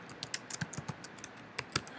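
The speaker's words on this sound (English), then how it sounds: "so I moved from box to box by typing and then hitting enter" Keystrokes tap out at an irregular pace on a computer keyboard, with a few heavier presses standing out, close and fairly quiet with no talk.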